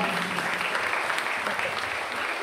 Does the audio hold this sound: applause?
yes